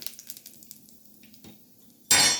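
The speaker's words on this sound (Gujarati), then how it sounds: "હવે એની અંદર આપણે કાજુ એડ કરી દઈશું, હિંગ." Cashews and asafoetida added to a pan of rava upma, with light clinks and scrapes of a spoon, then a sudden loud burst of sizzling as they hit the hot oil.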